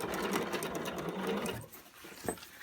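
A sewing machine with a dual feed presser foot stitches denim for a jeans zipper, running in a steady, fast mechanical whir that stops partway through, followed by a few faint handling taps.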